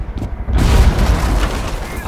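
A breach charge blowing a hole through a wall in Rainbow Six Siege, a heavy booming blast rolling into a dense rumble of debris that holds for about a second and a half, with voices nearby.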